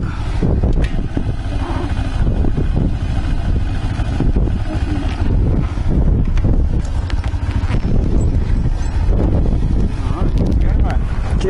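Loud, steady wind buffeting a microphone over a running Kawasaki Ninja 250 motorcycle engine while riding, continuous throughout, with voices faintly talking beneath the roar.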